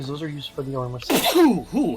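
A single loud sneeze bursts out right after a brief stretch of someone talking, a sharp close outburst followed by a short trailing exhale.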